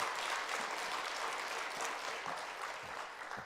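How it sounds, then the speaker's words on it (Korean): Congregation applause during a Friday worship service at a church in Geoje, South Korea, steady dense clapping from a crowd heard at moderate distance for a few seconds. "비전 1 박수 한번 줘주세요."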